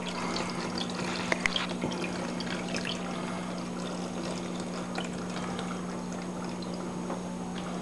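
Water pours and trickles steadily into a DIY refugium tank for dwarf seahorses beside the main aquarium, a soft continuous splashing with a few faint clicks, under a constant low hum and without speech.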